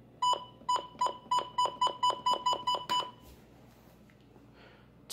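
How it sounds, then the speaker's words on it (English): Eleven quick electronic button beeps from a newer version of the Midland WR100 radio in a steady, slightly rushed rhythm, followed by a brief soft rustle and quiet. "Slightly different beeps."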